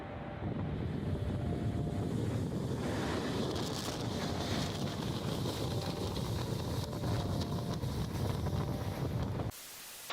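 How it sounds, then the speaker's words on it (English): Strong wind roars continuously during a tornado in Indiana, heavy buffeting gusts battering the microphone with a deep rumbling rush, loud and unbroken until it cuts off abruptly near the end. "This is unreal how strong the wind is"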